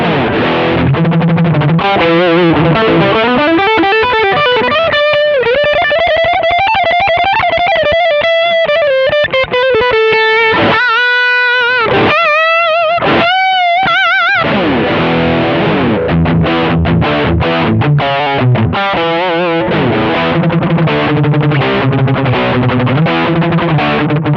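A heavily distorted electric guitar through a Shark Rock You Drive distortion pedal in rock mode plays loud, saturated riffs with bends and choppy palm-muted bursts, thick and crunchy throughout.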